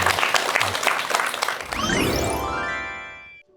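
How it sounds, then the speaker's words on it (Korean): A lecture audience breaks into applause, dense clapping that swells under a bright rising musical jingle and sustained tones before cutting off at the end. "여러분 큰 박수 부탁드립니다."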